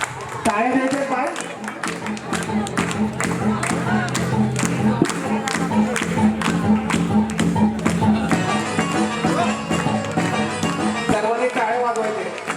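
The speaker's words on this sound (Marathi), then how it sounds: "सर्वांनी टाळ्या वाजवायचे." An audience at a cultural festival claps together in rapid, rhythmic bursts, with crowd noise and voices under the clapping throughout.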